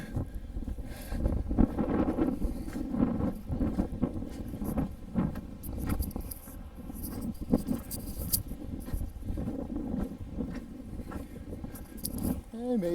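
Wind gusting beside the ocean, a steady rough buffeting roar across the microphone that rises and falls continuously, with faint patter mixed in throughout.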